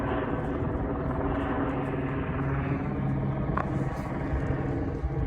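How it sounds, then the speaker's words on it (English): A traffic helicopter flies overhead with a loud, steady rotor and engine drone that fills the whole stretch, close and unbroken, with no voices. "Traffic helicopter."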